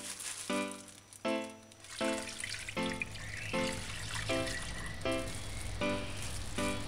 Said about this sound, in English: I just pour the squeezed coconut milk in it